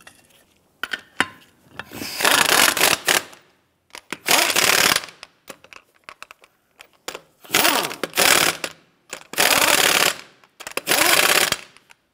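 An impact wrench spins lug nuts onto a 1992-1996 Toyota Camry wheel in five or six loud rattling bursts of a second or so each, separated by short pauses, close with no talk.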